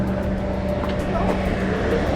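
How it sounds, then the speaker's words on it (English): Cars speed past on a road beside a hiking trail near Damascus, Virginia, a loud continuous roar of close traffic with no break. "Those cars are flying."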